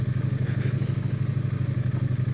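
Triumph Bonneville T100 motorcycle idling or rolling slowly on loose gravel, a steady low engine thrum with an even rhythmic pulse throughout and light clatter above it, close and continuous with no talk.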